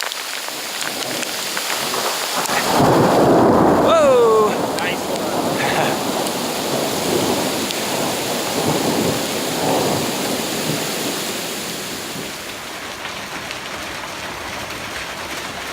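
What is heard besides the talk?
thunder during storm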